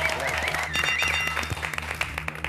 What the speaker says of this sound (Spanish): Pido un aplauso a Luis Brandoni